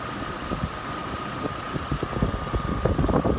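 A petrol inline five-cylinder Vortec 3.7-litre engine in a 2022 Hummer H3 SUV idling, with a steady low hum, a light ticking texture and a faint tonal whine, heard alone at moderate level.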